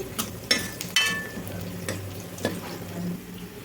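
Onions, curry leaves and a pinch of asafoetida frying in hot tempering oil for Andhra-style spinach dal, a steady close sizzle with a few sharper pops and crackles throughout, no talking.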